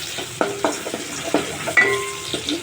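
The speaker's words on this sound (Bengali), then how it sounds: "তো মরিচটাও ফ্রাই করা হয়ে গেছে" Chopped green chili frying in a pan with onion and garlic for Maggi soup noodles, a steady close sizzle broken by several sharp stirring scrapes and clacks of a utensil, no voices.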